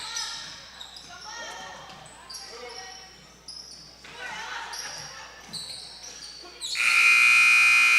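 A loud, sustained buzzer blares at the end of the first half of a high school basketball game in a gym. Crowd noise and a commentator's voice come before it.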